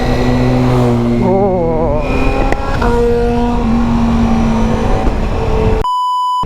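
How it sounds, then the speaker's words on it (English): An MV Agusta F4 motorcycle engine revs up and falls back in loud, close, rising and dropping whines over a rumbling idle, followed by a brief electronic tone at the end. "that MV Agusta sounds good"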